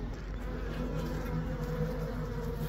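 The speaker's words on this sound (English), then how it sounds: "Okay guys, so it's a hive." A large hive of bees lodged inside a chimney gives off a dense, continuous droning buzz, close and even in level, with no voices over it.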